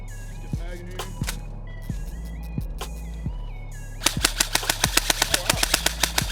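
Classic Army Skirmish Line airsoft gun firing during a drop torture test: several spaced single shots with mechanical whirring, then a fast regular burst of about fifteen sharp cracks, close and loud.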